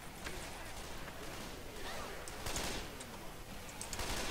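Video game gunfire comes as bursts of rapid shots and scattered single cracks, fairly faint under a busy game mix with some voice activity.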